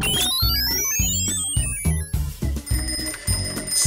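Bright bicycle bell rings several times in quick succession over a bouncy musical backing, with a rising chime sweep.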